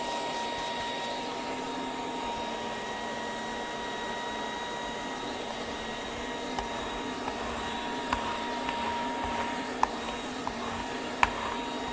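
Ryobi 18V mid-size spot cleaner running suction, a steady, close motor whine and airflow hum with a few small clicks and slurps toward the end.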